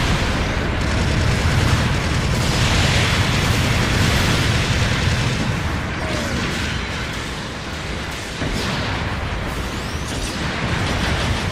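An enemy mobile suit blows up in Gundam Battle Operation 2, with a loud sustained rumbling explosion and bursts of debris and mechanical clatter rolling on for several seconds amid combat noise.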